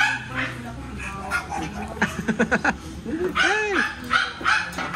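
A calm, muzzled dog lets out a quick series of short barks and yips in the middle, while people talk and call out around it.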